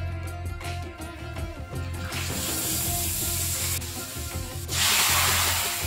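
Mustard seeds spluttering in hot oil for a Kerala sadya-style rasam tempering: a close, steady sizzle with crackling pops that swells into a louder hiss near the end.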